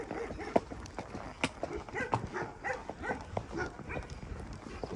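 Dogs greet riders returning from a night horse ride, with excited yips, whimpers and snuffling mixed with hoof clops and movement, close by and busy throughout, with faint voices in the background.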